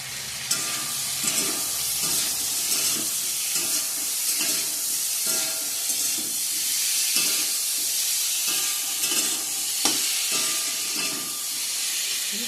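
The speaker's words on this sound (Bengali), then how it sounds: "ভালো করে কষিয়ে নিই।" Ground red chili, coriander and cumin powders sizzle and hiss in a hot pan while being stirred and sautéed, a continuous frying crackle broken by repeated scraping strokes of the spatula.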